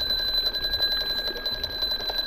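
An alarm goes off in the video game Ark Survival Ascended, with a loud, steady electronic beeping tone that repeats rapidly and continues without pause. No one speaks.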